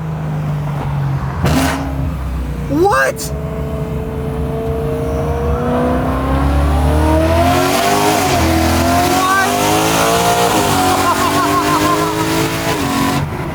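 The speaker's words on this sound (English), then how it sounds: "We're gonna hit the button on the remote, get a little, some rev action." A car engine, started by remote in a small home garage, revs with rising and falling pitch sweeps, loud and close, over a continuous low rumble, with a brief startled voice near the start.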